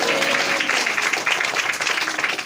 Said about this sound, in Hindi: ताली बजाकर कहेंगे हालेलुया